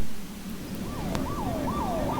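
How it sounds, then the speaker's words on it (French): Wailing emergency sirens rising and falling in a Skibidi Toilet video, steady and fairly loud over a dense rumbling background with no talk. "Déjà, on entend des sirènes."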